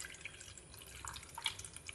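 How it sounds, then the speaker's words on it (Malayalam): Half a cup of water is poured onto a large piece of jaggery in a pan for oats laddu, giving a faint, soft trickle and a few light drips close by with no voices. "ഇനി നമുക്ക് ഇതിലേക്ക് ഒരു അര കപ്പ് വെള്ളം ഒഴിച്ചു കൊടുക്കാം"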